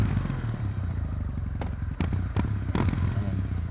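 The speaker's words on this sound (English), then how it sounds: "and then they're just revving constantly" A Kawasaki W800 motorcycle engine runs steadily with a low, throbbing drone, broken by a few sharp mechanical clicks and clatters.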